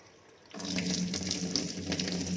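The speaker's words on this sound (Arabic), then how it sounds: "هي بتسحب المية لوحدها" A Toshiba 10 kg top-load automatic washing machine draws in water at the start of its tub-cleaning cycle, a sudden gushing rush that begins after a short quiet moment and holds steady.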